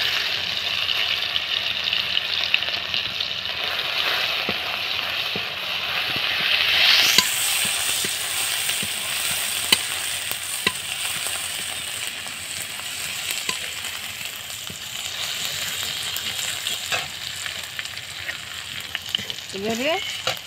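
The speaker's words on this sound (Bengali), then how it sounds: "সেই তেলটার মধ্যে আমি রসুন বাটাটা দিয়ে দিই" Garlic paste sizzles steadily in hot oil left over from frying fish, a continuous loud crackling hiss that swells briefly partway through and carries on without any talk.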